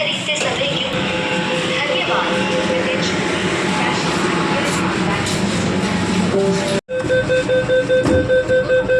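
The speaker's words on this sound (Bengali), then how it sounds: "ফাইনালি চলে আসলো হচ্ছে মেট্রো" An underwater metro train in Kolkata pulls into the station with a loud, steady rumble and hiss. Voices murmur through the noise, which breaks off abruptly near the end, followed by steady tonal chimes.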